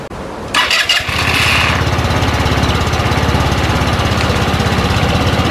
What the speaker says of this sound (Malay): Jom saya belanja pula bunyi motor untuk Tuscany.